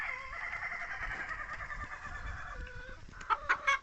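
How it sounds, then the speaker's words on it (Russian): Chickens and roosters cluck steadily while being fed scattered grain, with a few sharper, louder calls near the end. "Сегодня кормим птичек,"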